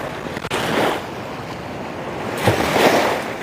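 Strong water current surges at Rondiha dam near Durgapur, a loud, continuous rushing roar with wind buffeting the microphone, and no talk.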